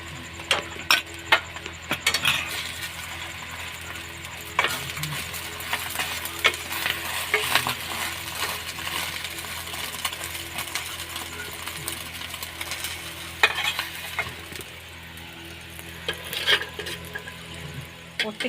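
Eggs fry in a pan with poppy seed paste, giving a soft continuous sizzle broken by repeated clinks and scrapes of a spatula stirring and turning them.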